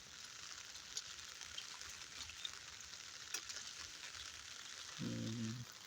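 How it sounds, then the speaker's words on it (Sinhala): Steady rain falling on a gloomy day in Moratuwa, an even, faint hiss that continues throughout, with a low hum joining in near the end. "මාර විදිහට වැස්සක්."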